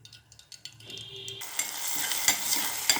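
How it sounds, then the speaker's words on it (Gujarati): Mustard seeds are dropped into hot oil for an onion and green garlic tempering and break into a loud, steady sizzle with scattered pops and crackles. A few quiet clinks come first, before the frying noise swells and holds. "રાઈ નાખી"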